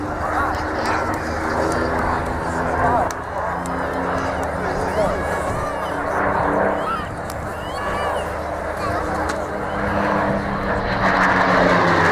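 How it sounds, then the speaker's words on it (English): Merlin-engined Spitfire and Mustang, a Rolls-Royce and a Packard-built Merlin, flying a display at the Dunsfold airshow, a continuous loud piston-engine drone under steady commentary from a public address announcer. "Of course, both aircraft are powered by the Merlin."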